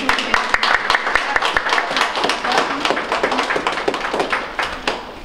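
An audience at a nursing school graduation claps steadily in a close, lively round of applause with crisp individual hand claps.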